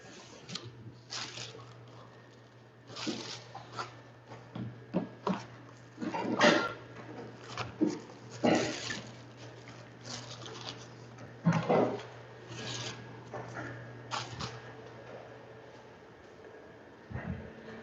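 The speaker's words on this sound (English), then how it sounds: "all we have to do is just pin it, pin the dough to the final thickness and cut it." Ramen noodle dough is rolled and pinned to thickness, then cut, giving a series of irregular soft thumps, squishes and pressing sounds over a faint steady hum in a quiet kitchen, with no talk.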